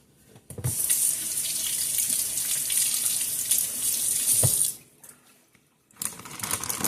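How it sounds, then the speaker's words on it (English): A kitchen tap runs hard over dropped butternut squash pieces being rinsed, a steady splashing stream lasting about four seconds that then shuts off. A short pause follows before the water gushes on again. "I'm going to rinse them off"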